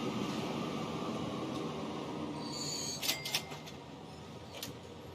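In Transport Fever 2, a train runs with a faint, steady rumble, and a few brief clicks and clacks rise out of it near the end.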